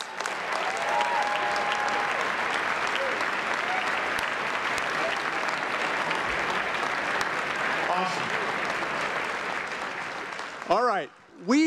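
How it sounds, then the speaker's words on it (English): Loud, sustained applause from a large audience at the White House Correspondents' Dinner, steady and dense for about ten seconds before a voice briefly speaks at the end. "please join us in giving a round of applause for the 2019 scholarship winners"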